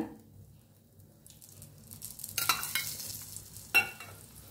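Corn flatbread frying in oil in a pan, a faint soft sizzle with a few louder scraping or flipping noises near the end, close and quiet, no talk.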